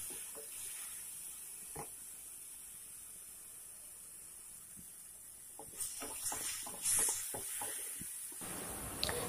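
Raw mango pieces with salt fry in a pan for a green mango chutney, giving a soft, steady hiss of sizzling, with a few light clicks and scrapes of stirring toward the end.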